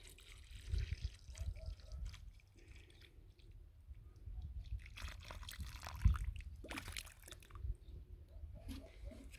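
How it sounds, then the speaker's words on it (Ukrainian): Water trickles and splashes onto the soil around cauliflower seedlings in uneven pours, soft and close, with quiet rustling and handling noises around it. "Поливати будемо дуже добре бо капуста любить воду."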